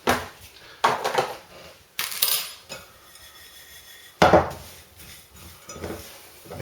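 Boilie ground bait ingredients, with sugar among them, stirred together in a bowl: repeated scraping and clinking knocks of a utensil against the bowl come in uneven bursts, close and fairly loud, with no talk.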